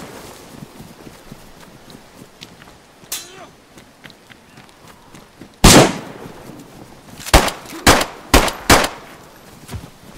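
Gunfire rings out in DayZ on the Namalsk map: a single faint shot, then a loud close crack followed by a quick irregular volley of four or five sharp shots, with voices talking between them.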